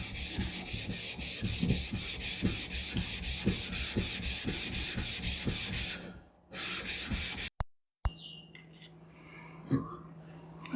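A knife blade is stroked back and forth on a 1000 grit Morihei whetstone in steady, rhythmic rasping scrapes, close and fairly quiet, for about six seconds before the sound breaks off and a few handling noises follow.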